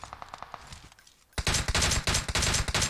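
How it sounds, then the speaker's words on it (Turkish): Gunfire in the mobile game PUBG Mobile: a few light taps, then loud rapid automatic bursts firing in quick, dense repetition. "Duvarın arkasından aim koyup duvarın arkasından sıkıyor abi"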